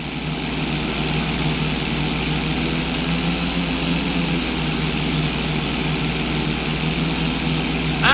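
Propeller plane engine droning steadily through an inverted roll stunt in GTA San Andreas during a pilot license test over Los Santos, a continuous loud hum with no breaks.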